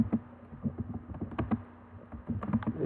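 Quiet, irregular keystrokes patter across a computer keyboard in quick little bursts and short pauses, close by, over a faint steady hum, with no one speaking.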